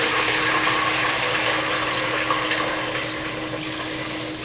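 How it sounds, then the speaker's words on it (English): Freshly strained water kefir from a second ginger-flavored ferment fizzing hard in a container, a steady dense hiss of bubbles heard up close with no talking. "Oh, it's just fizzing like crazy."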